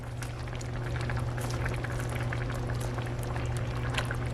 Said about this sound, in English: We're gonna add in our noodles. Gonna mash them in there.